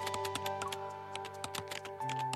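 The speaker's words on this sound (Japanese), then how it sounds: "スラリとした指がキーボードの上を素早く飛び回り、カタカタという音は止まることなく鳴り続けている。" Fingers tap rapidly on a computer keyboard, a quick irregular clatter of many close keystrokes over a faint steady hum.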